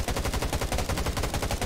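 Rapid automatic gunfire from the mobile zombie survival game Garena Undawn, a loud continuous burst of evenly spaced shots with no talking.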